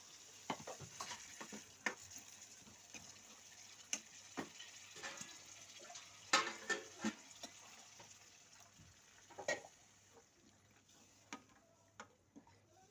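Spiced masala water for Nagpur-style tarri poha bubbles in a pan, giving quiet, sparse pops and small clicks at irregular intervals over a faint low background, with no talking.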